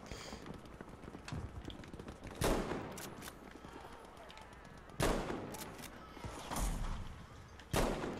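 Faint distant gunfire in the shooter game Battlefield 5, a few muffled bangs and scattered crackling shots in a quiet battlefield ambience.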